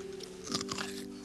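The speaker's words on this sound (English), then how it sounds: "Here comes the celery." Someone bites into a crunchy stick of celery, giving a brief, quiet, crisp crunch, close up and with no talking.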